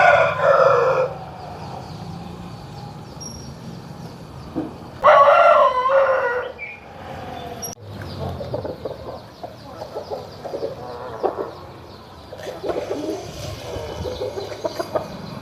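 A big double-bodied Pala Abrash rooster crows loudly and close at the start and again midway. Softer clucks and rustling fill the gaps, and more faint clucking comes near the end.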